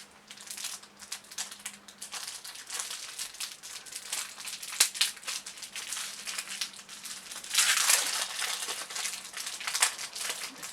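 Paper wrapping crinkles and tears close up as a small heart-shaped Advent calendar gift is unwrapped, with bursts of louder rustling midway.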